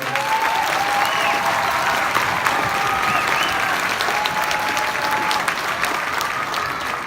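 At a middle school holiday band concert, the audience gives the student band ensembles a sustained round of applause, a loud, even roar of many hands clapping throughout, with occasional cheers and voices mixed in.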